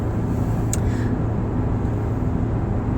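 From inside a car crawling through late-morning traffic, a steady low engine and road rumble fills the cabin, with a brief faint higher tone early on and no speech.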